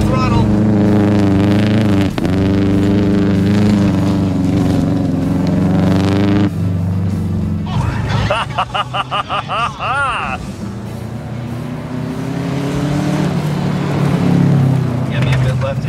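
A car engine drones and climbs in pitch as it accelerates, with a stretch of revving and rapid gear-like pulses midway, while people talk over the sound.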